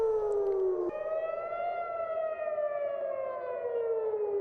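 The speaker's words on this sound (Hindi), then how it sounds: "यरूशलेम में और तेल अवीव में एयर रेड सायरन बज रहे हैं, इसकी आवाजें सुनाई दे रही हैं।" An air raid siren wails in Jerusalem or Tel Aviv, a single sustained tone that drops in pitch, then rises again and slowly slides downward, loud and steady with no voices.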